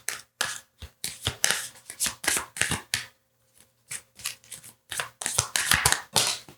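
Tarot cards shuffled up close in quick bursts of crisp riffling and slapping, with brief pauses between runs and no talking.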